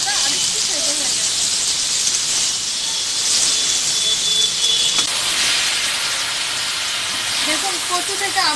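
Fish and taro stems fry in a pan, giving a loud, continuous steamy hiss and sizzle with faint squeals, steady throughout without speech.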